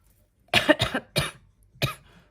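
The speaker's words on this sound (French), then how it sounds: "Oh bah je tousse." Several short coughs, four bursts in quick succession, close and fairly loud, followed by quiet.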